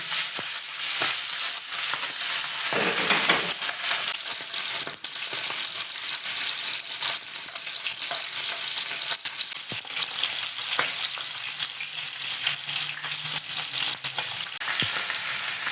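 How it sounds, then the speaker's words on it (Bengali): Pabda fish fry in hot oil in a pan, a loud, steady sizzle close by that runs without a break, with occasional stirring scrapes and pops. "মাছ ভাজা অলমোস্ট কমপ্লিট"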